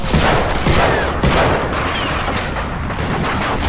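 Loud, dense battlefield gunfire in the World War II shooter Medal of Honor Frontline, a continuous fusillade of overlapping shots with heavier thumps near the start, steady and close throughout.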